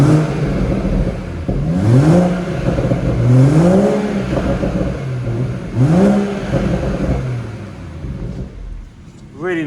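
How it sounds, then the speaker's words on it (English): Engine of a BMW M140i Shadow Edition revving in a few rising blips, each settling back into a burbling exhaust idle, heard close and loud. "Really nice burble from that engine."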